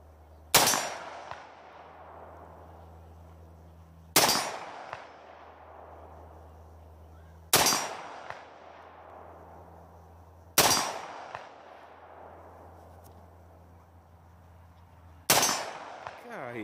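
Five loud, sharp gunshots, evenly spaced a few seconds apart, each cracking hard and then fading in a long echoing tail outdoors.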